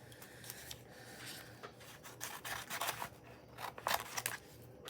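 Scissors snip close by through a paper transfer sheet from a book for decorating clay pots, making a quiet series of irregular crisp cuts that grow denser toward the end, with no talking.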